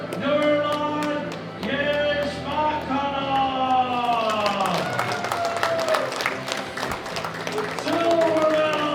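Crowd applause for the bronze medallist in the men's 120 kg squat at the 2016 World Open Powerlifting Championships, loud and steady across the arena, with an announcer's amplified voice calling a name over it.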